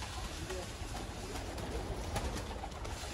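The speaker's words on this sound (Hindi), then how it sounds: "ये कबूतर है दोस्तों" Golden pigeons of the Mian Nazir bloodline cooing on a rooftop loft, a steady low cooing running throughout under a broad wash of background noise.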